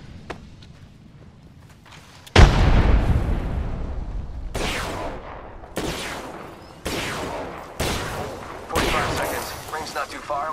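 Apex Legends battle: a heavy grenade blast followed by repeated bursts of gunfire and further booms, loud and close, with in-game voice callouts between them.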